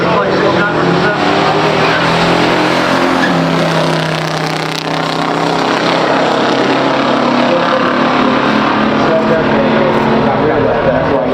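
A 1969 Chevelle SS 396 and a 1970 Buick GS 455 Stage 1 in a pure stock drag race, a loud, continuous roar of V8 engines with crowd and track noise throughout.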